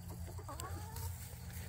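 Korean Araucana chickens cluck softly nearby in Taean, a few short faint clucks over a steady low hum.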